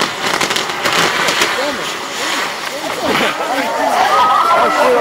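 Fireworks bursting on a castillo firework tower, a continuous crackling and whistling barrage with sputtering bangs and rising whistles, loud and close, with people talking and exclaiming among the noise.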